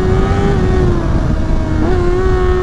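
A 2024 Honda CBR 600 RR motorcycle riding through bends, its engine a loud, close, sustained high-revving whine that holds steady, dips briefly and climbs again, with wind rush underneath.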